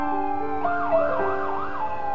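An ambulance siren wails in a steady rising-and-falling pattern, loud and close, over a sustained tonal drone, with no voices.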